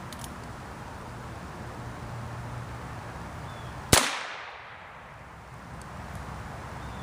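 A single sharp .22 rifle crack rings out at a safety pin target during zeroing, one loud isolated shot over a steady outdoor background hiss.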